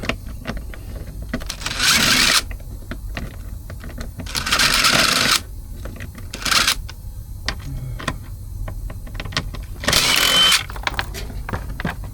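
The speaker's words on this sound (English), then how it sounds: "I'm using a DeWalt impact driver to get these out" A DeWalt impact driver backs screws out of a Freightliner truck's cabin filter cover in four loud, close bursts of rapid hammering, separated by quieter pauses filled with small clicks and handling noises.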